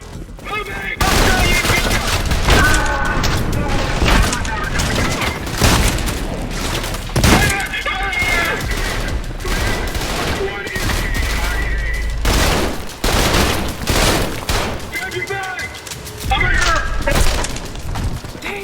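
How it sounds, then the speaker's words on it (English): A shotgun fires in the shooter video game Trepang2, with loud booming blasts in quick, irregular succession and heavy combat noise between them, sustained through most of the stretch. "Ah, my favorite weapon in the game, the shotgun."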